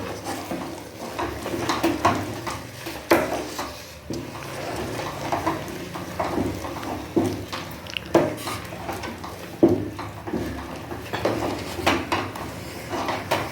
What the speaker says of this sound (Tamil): மாற்றி மாற்றி கிளறிக்கணும்